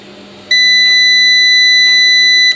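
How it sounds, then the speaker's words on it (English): An FSP 480W UPS alarm sounds on power-up, a loud, continuous high-pitched electronic beep for about two seconds, steady and close, after a brief low hum. "Loud beeping noises."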